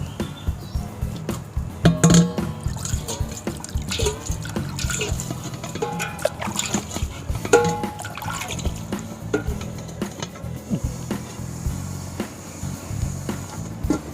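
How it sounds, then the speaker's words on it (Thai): Water splashes and trickles over stainless steel being rinsed after a natural polish with lime peel, with steady running and dripping sounds and irregular clatter close by, and no talk. "เดี๋ยวผมเอาน้ำล้างก่อนนะ"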